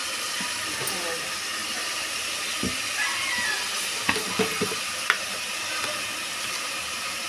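Mutton sizzling in hot oil in a pan as turmeric powder goes in, a steady broad hiss of frying with a few small pops and clinks, close and moderately loud, with faint speech.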